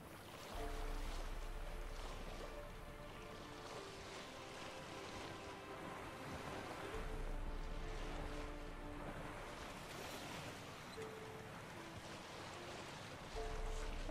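A small, shabby boat moves across open water in the video game The Witcher 3: Wild Hunt, with a constant wash of waves and wind around it, steady and moderately loud, and no talk.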